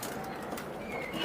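Pigeons coo softly at a pigeon farm, a low murmuring burble over steady background noise, faint and brief with no talking.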